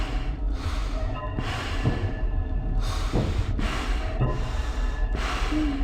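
Heavy, rasping breaths drawn through a mask in the video game Five Nights at Freddy's 2, slow and rhythmic in and out, loud and close with a muffled, hollow quality.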